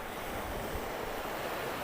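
Sea waves washing onto the shore at a beach where someone fishes from the water's edge with shrimp bait, making a soft, continuous surf wash with a light wind hiss, fairly faint and steady.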